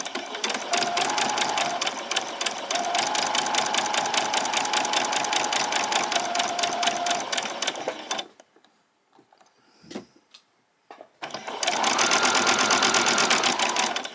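Sewing machine running steadily while stitching a quarter-inch seam around a pyjama top, a continuous loud buzz that stops for a few seconds of near silence, with faint handling clicks, then starts up again.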